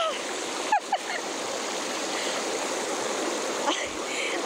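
Continuous rushing of flowing water fills the scene, with a few brief splashes and faint voices near the start.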